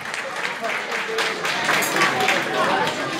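Steady audience applause fills a village iftar gathering at Karaosmanlı, a dense, even patter of many hands clapping throughout, with a voice over a loudspeaker mixed in.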